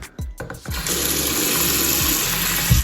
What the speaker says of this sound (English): Water falls straight away down.